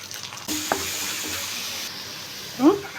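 Butter, green chilies and ginger-garlic paste sizzling in a pan for malai chicken, a steady close hiss that starts abruptly, with a brief clatter early on and a louder utensil scrape near the end.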